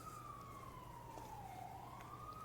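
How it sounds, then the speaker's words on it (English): A New York City emergency siren wails in the distance, one slow tone that falls and then rises again over a steady low street rumble, faint but distinct. "Little New York City siren action for you all."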